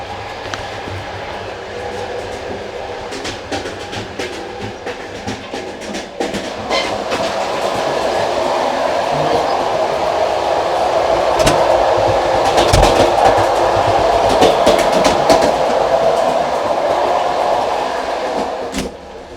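Steady rumble of the Kyiv Express sleeper train rolling along rails, with rhythmic wheel clatter and occasional sharper clacks, growing louder midway and fading slightly at the end.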